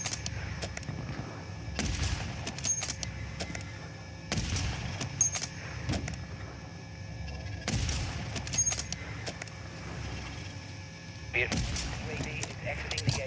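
Sniper rifle shots in an online first-person shooter, four loud sharp blasts spaced a few seconds apart, each with a short rolling tail over a constant background rumble.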